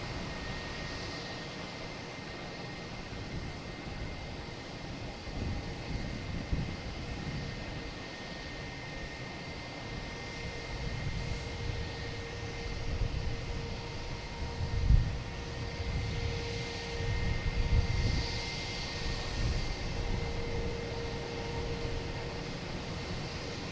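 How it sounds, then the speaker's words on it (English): A JetBlue Airbus A220 bound for West Palm Beach takes off from Boston Logan Airport, a moderate, distant-sounding engine rumble that swells and surges in waves before fading, with no talking. "Next takeoff is JetBlue heading to, where is that heading? West Palm Beach. A220."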